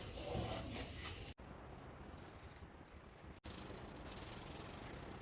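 Primer on a Bronco body panel is sanded by hand in a steady, faint scratchy rubbing, continuing in long strokes with two brief pauses and no voices.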